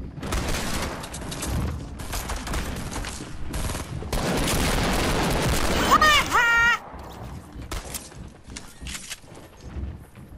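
Fortnite gameplay with gunfire: sustained, loud bursts of rapid shots and impacts, including pump shotgun blasts, peaking midway with a brief high metallic whirring burst before continuing more sparsely.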